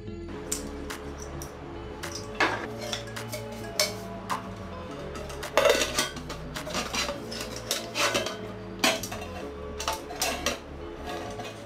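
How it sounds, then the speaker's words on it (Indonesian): A camping pot and pan, packed with a Snow Peak titanium cook set, are handled, giving off repeated light metallic clinks and clatters at close range, with quiet gaps between. "ini adalah pen ya dan ini adalah potnya"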